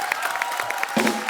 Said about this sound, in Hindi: Superb यार, तालियां जोरदार.